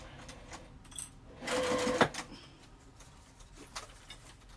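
A sewing machine runs a short burst of stitching along a sling bag seam, close and moderately loud, lasting about a second, with quiet handling noises before and after.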